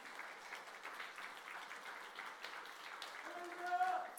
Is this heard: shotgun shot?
no